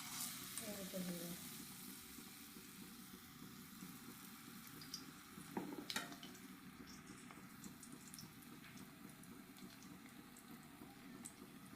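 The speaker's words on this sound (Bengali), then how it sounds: "তো একে একে আমি সব ফুলগুলোই ভেজে নেব।" Red agati flowers dipped in gram flour batter frying in hot oil, a continuous soft sizzle with a few brief clinks partway through, faint and steady.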